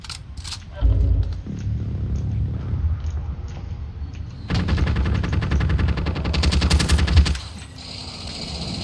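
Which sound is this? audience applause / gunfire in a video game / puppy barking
gunfire in a video game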